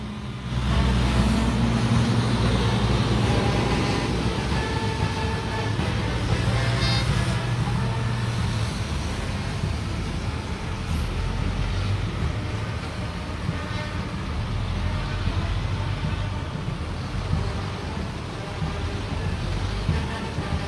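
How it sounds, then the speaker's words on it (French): MRAP Cougar armored vehicles roll past in a military parade in Djibouti, giving a loud, steady, heavy engine rumble and road roar with continuous crowd and outdoor noise. "Puis s'ensuit un escadron composé de véhicules MRAP Cougar transportés"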